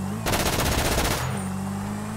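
A single rapid burst of automatic gunfire in GTA V, lasting about a second, loud and close, then cutting off to a low steady game hum.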